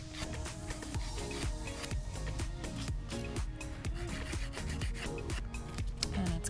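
Straight, steady strokes of a file across an acrylic nail during a pink-and-white manicure, a continuous close rasping rub that repeats in short even passes with no talking.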